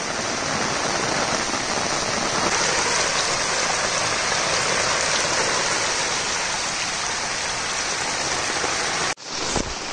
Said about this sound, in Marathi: पाऊस ना थांबायचं अजून नाव घेत नाही.